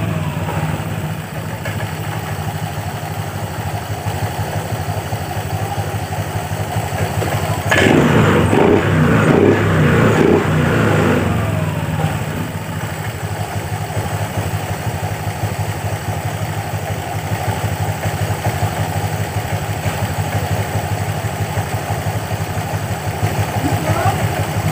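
A Honda Vario 125 scooter engine idles at lowered RPM with a steady low hum throughout, briefly joined by a louder burst of noise partway through.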